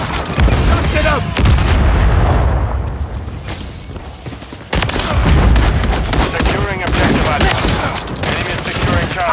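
Loud grenade explosions and heavy gunfire in the Modern Warfare 3 multiplayer game, dense overlapping booms and shots throughout, with in-game voice callouts shouting over the battle.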